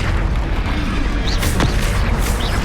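Confringo fire spell blast in the video game Hogwarts Legacy, a booming burst over dense battle noise, with a sharp crackling streak mid-clip and faint whooshing effects around it.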